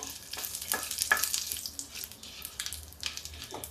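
Cumin and bay leaf sizzling in hot oil in a pan on low gas, a quiet crackling fry broken by a few sharp spits and pops, no voices.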